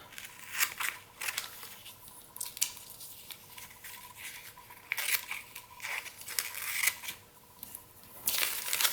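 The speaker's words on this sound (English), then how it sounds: "I'm just going to cut that out with my scissors" Crisp snipping and rustling of scissors cutting a piece out of a magazine page, in uneven bursts with brief pauses between cuts, close and fairly quiet.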